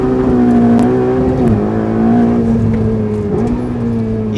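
Ferrari 488 GTB turbocharged engine pulling hard in second gear, a loud close engine tone climbing steadily in pitch with a brief dip around a gear or throttle change, heard from inside the car.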